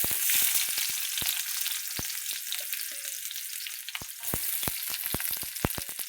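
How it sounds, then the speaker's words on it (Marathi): Chopped onion dropped into hot oil in a pan for a dry soybean dish, with a continuous close sizzle broken by sharp crackles and spatters, loudest at the start and again near the end, with no talk. "हे बघा कांदा टाकते"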